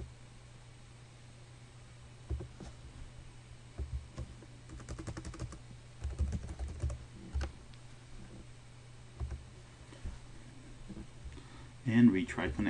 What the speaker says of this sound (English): I wonder if I typed the password wrong, which I actually did.